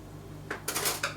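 A metal cheesecake pan greased with butter is handled, giving a few light clanks and clinks against a hard surface within about a second.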